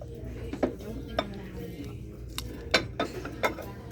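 A ceramic or glass butter dish is handled on a thrift store shelf, producing several light clinks and knocks over a low store hum, while a voice talks faintly in the background.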